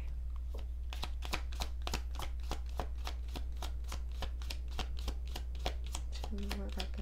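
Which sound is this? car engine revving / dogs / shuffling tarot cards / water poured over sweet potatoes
shuffling tarot cards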